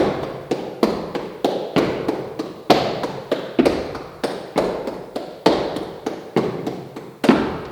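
Crisp, close taps strike in a steady, even pulse with the beats subdivided into threes, each hit sharp and quickly decaying, with no voices.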